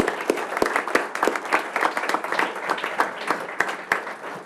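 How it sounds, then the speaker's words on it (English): A roomful of people at a city commission meeting in Royal Oak applaud a police officer, giving several seconds of steady, dense clapping with no speech. "one more round of applause for Officer Robinson"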